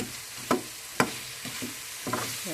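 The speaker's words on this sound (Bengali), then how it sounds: "ভালো মতো একটু মশলাটা ভাজা ভাজা কইরা" Spice masala frying in a pan, with a soft steady sizzle under a few sharp scraping stirs of a utensil against the pan, close and moderately loud, no talking.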